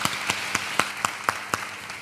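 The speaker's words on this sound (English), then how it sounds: "So, applause one more time for Niki." Audience applause at a talk on self-healing, heard as a steady run of evenly spaced, fairly faint claps, with no voices over them.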